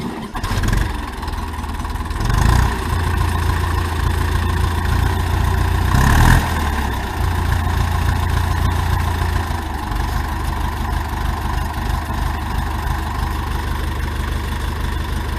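An Ursus C-355 tractor engine idles steadily on its own, a loud low diesel chug with slight wavering in rpm and a brief rev bump partway through.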